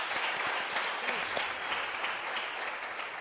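An audience applauds a jazz vocalist at a youth week event, a short, fairly faint wash of steady crowd clapping.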